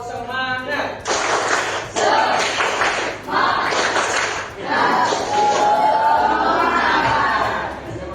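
Schoolchildren in a classroom perform a rhythmic spirit clap, loud bursts of group clapping with shouted chanting voices in short repeated phrases.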